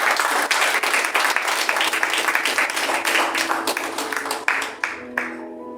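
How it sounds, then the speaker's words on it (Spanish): A church congregation applauding together, a dense, loud burst of many hands clapping that holds steady for several seconds, then thins out and fades as it ends. "Dale un fuerte aplauso al Señor."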